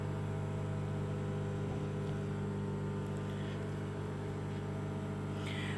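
A microwave oven runs with a steady low mechanical hum droning continuously, with faint clicks near the end.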